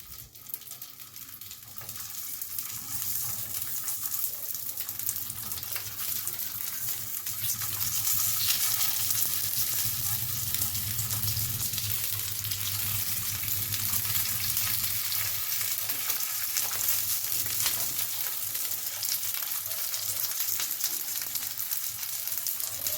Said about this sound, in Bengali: এবার চলুন আস্তে আস্তে এই পুর ভরা ছিমগুলোকে এর মধ্যে দিয়ে দিই।